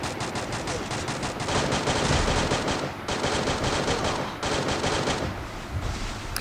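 Rapid automatic gunfire in a Garena Free Fire match, loud sustained bursts of shots with brief gaps between volleys.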